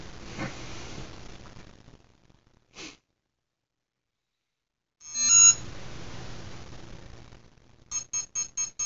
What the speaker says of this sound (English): once again you're hearing the ESC release